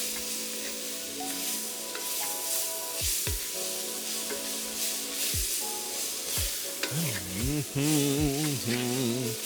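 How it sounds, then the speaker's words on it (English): Chicken stir fry sizzles steadily in a hot pan while being stirred, a dense close frying hiss broken by scraping strokes, with a tonal hum running underneath. "Let me finish giving this a little bit of a stir."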